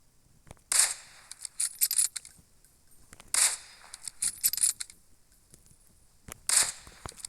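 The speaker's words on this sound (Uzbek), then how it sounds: "Hop, otishma boshlandi mana." Gunfire in a video game: three sharp, bright shot bursts roughly three seconds apart, each trailed by scattered clicks and crackles, moderately loud with no talk.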